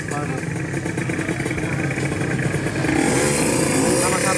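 Tuned motorcycle engines rev hard in an engine endurance contest between two tuning teams, a loud, sustained buzzing drone that swells further after a few seconds, with voices mixed into the noise.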